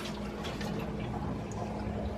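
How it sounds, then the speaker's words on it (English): Residual water is poured out of a Berkey water filter, a short gurgling, trickling pour with a low hum underneath, close and brief. "pour out any residual water that you got"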